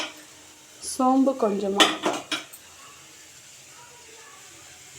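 A spoon briefly clatters and scrapes in a pan of sautéing coconut, cinnamon, chana dal, cumin and fennel, a short burst of clinks that overlaps a speaking voice and then fades to quiet.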